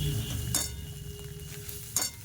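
Masala being stirred and fried in a kadai, a soft continuous scraping and sizzle with two sharper clinks of a spoon against the metal near the middle and end, no talking.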